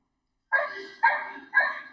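A dog barks up at something in a tree: three sharp, close barks spaced evenly about half a second apart after a moment of silence.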